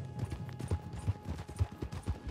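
Horse hooves clip-clop in a steady rhythm as a mount trots in the Red Dead Online video game, close and moderately loud with quiet, low-level background.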